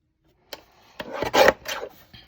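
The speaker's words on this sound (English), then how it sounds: "I'm going to go ahead and cut it to 4 1/4 by 5 1/2" Paper being cut to card size with a paper trimmer, a few short scraping, rasping strokes close by, separated by brief pauses, with no talking.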